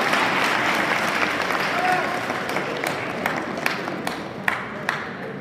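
Applause from a college audience at a poetry recitation event: broad crowd clapping that starts full and slowly thins, leaving a few sharper, isolated claps near the end, with some voices in the background.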